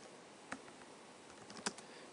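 Typing on a computer keyboard while entering a math query into Wolfram Alpha: a few faint, scattered key clicks, with a sharper tap near the start and another toward the end, heard alone with no talk.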